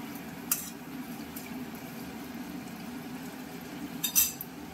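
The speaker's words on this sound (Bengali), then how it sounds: "ফুটছে মাছটা, তাই না? মাছটা না গ্রেভি, মানে গ্রেভিটা।" Fish curry gravy for doi katla, a yogurt-based Bengali carp dish, simmers and bubbles in a pan as a steady soft sizzle, with a couple of brief metallic clinks of utensils.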